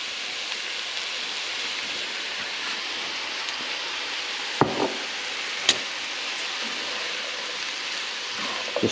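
Soy sauce hissing as it hits rice frying in a pan with onions: a steady broad sizzle throughout, close and even, with a couple of sharp clicks of a utensil against the pan.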